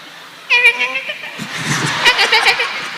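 A close voice mimics a drawn-out cat meow, followed by breathy chuckling and murmured talk.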